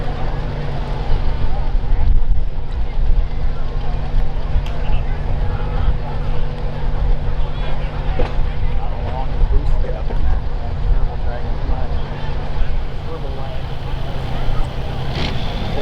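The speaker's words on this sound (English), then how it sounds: "Let's see if Craig can bring those RPMs up just a little bit higher, make that 3x3 Charger a little happier" At a hot farm tractor pull in Cuba City, Wisconsin, a pulling tractor's engine gives a loud, continuous roar that holds steady throughout while an announcer talks over it.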